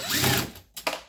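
A quarter-inch tool works out the instrument cluster screws on an early Ford Bronco, giving a brief close mechanical whir, a short pause, then two quick ratcheting bursts.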